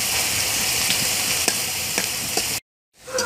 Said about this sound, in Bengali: তাই পেঁয়াজটা আমরা এখন ব্রাউন কালার করে ভেজে নিচ্ছি